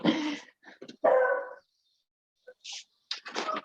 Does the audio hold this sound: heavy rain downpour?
no